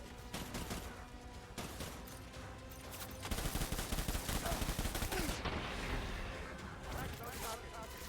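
Rapid bursts of gunfire ring out while shooting at Cliff in the video game Death Stranding, dense overlapping shots that grow louder and more continuous partway through, with a full, booming low end.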